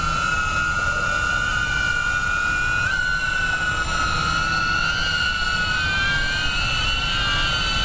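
DJI Avata FPV drone flying in to land, a loud steady high-pitched propeller whine with shifting tones throughout, close and continuous.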